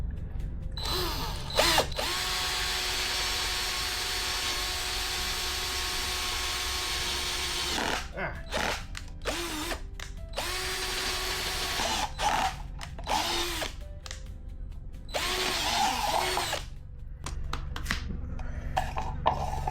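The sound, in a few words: drilling holes in plastic pipe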